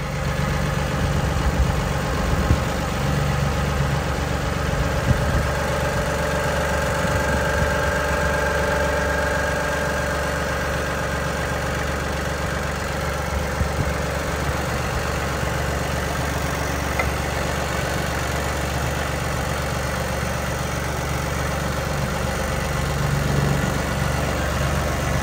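A tractor engine runs steadily while pulling a mower stuck in a storm ditch, giving a loud, continuous low rumble with a slight knocking throb that holds unbroken for the whole stretch, with no talking.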